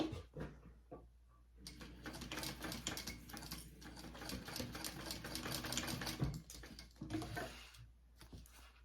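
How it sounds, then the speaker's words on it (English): A sewing machine stitches a zipper end piece at the seam allowance, right sides together, in a rapid mechanical patter that runs in bursts, fairly quiet and close, with no talk over it. "I'm gonna sew that on at my seam allowance."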